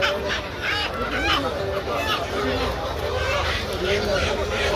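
Chickens, ducks and pigeons are held for sale at a busy weekly poultry market in Dammam, where fowl clucking and honking keeps up through steady crowd noise and someone talking over it.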